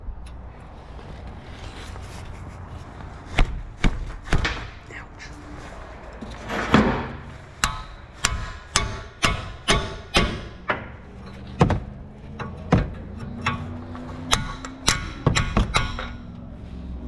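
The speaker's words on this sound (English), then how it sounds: "We'll go ahead and get this jam nut loosened up here." A wrench works a jam nut loose on the outer tie rod of a 2013 Nissan Frontier. Sharp metallic clanks and taps repeat in an irregular series, close and fairly loud, over faint background noise.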